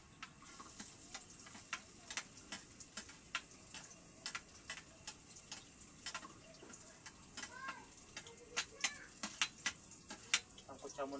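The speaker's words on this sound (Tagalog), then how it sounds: "Ngayon ilalagay na natin yung bawang guys." Garlic sizzling and crackling in a hot pan after being added with onion and pepper, a faint steady fry broken by rapid sharp pops and ticks, fairly quiet and without talk.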